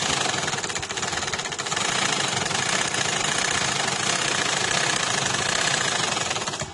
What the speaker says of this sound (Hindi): ये जो मैंने ओपन इधर निशान लगाया है, ये मैं सिलाई लगा रही हूँ इधर।